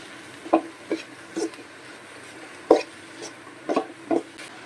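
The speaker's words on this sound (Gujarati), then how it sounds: "સારી રીતે મિક્સ કરી લેશું આપણે." Vegetables being stirred with salt, chili sauce and spices in a pan while making vegetable paratha, giving about eight short scraping and clinking strokes at irregular intervals over a quiet background.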